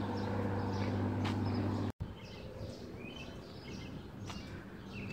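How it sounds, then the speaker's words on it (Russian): Birds chirp and sing on a quiet residential street, a steady outdoor ambience with scattered faint calls over a low background hum. "Птички поют."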